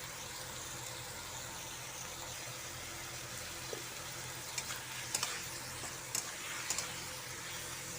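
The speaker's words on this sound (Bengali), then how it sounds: "10 মিনিট ধরে ভালো করে কষিয়ে নেব" Spice paste with potato and eggplant fries and sizzles in a pan for a puti fish curry, with a steady loud hiss throughout and a few faint clinks as it is stirred.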